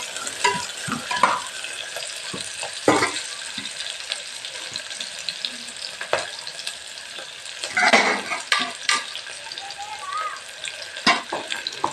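Onions fry in a pan for biryani, a steady sizzle with intermittent scraping and stirring bursts from a utensil over about twelve seconds, close and moderately loud.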